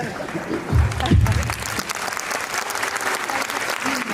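Audience applause in a crowded hall, a short burst of clapping that swells and then settles into a steady wash of many hands, with a voice briefly breaking through near the start.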